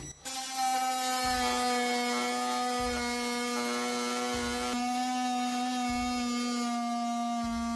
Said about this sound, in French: On va avoir besoin de découper ce morceau de bois à plusieurs endroits, donc en suivant les encoches ici par exemple.